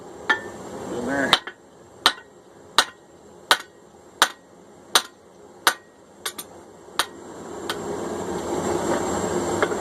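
Hand forging of a straight peen hammer: about a dozen sharp, ringing hammer blows on hot steel at an anvil, struck at a steady pace, close and loud, followed by a rising low rumble.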